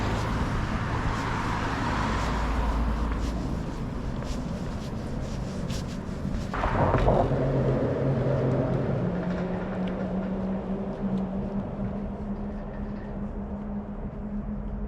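Cars rolling across the working Washington Crossing bridge into New Jersey, a continuous traffic rumble with one passing vehicle swelling louder midway, then fading back to a steady wash of road noise.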